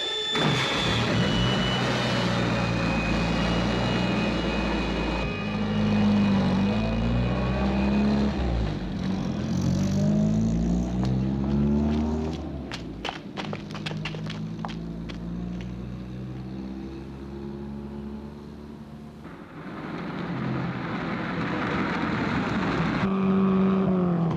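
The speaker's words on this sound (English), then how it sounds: "This is not doing the engine any good, Jeff." A car engine revs hard and loud, its pitch climbing and dropping in repeated surges. The roar stays close and continuous with no talking over it.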